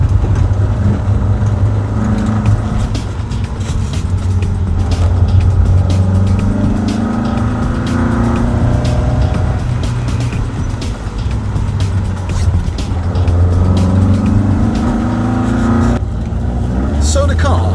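An Opel Ascona rear-wheel-drive rally car drives along, its engine note rising through the gears with clear breaks at each shift. A person talks over the steady mechanical drone inside the cabin.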